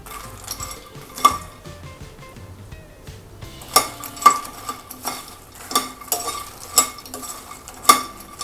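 Lotus seeds (makhana) are stirred and roasted in butter in a pan, with a spoon clinking sharply against the metal at irregular intervals over a soft, steady sizzle.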